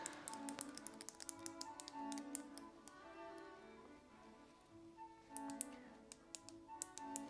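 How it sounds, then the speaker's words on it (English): Clicky mechanical buttons on an ESP32-C6 Zigbee remote are pressed in quick, uneven bursts of sharp taps and clacks, close and distinct over a faint steady hum. "Love the clicky clack of buttons,"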